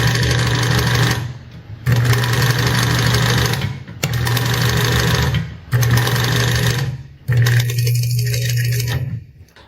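Sewing machine running in five loud bursts with short pauses, a steady hum under the rapid chatter of the needle bar moving up and down.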